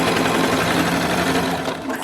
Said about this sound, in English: Just serge a couple stitches further.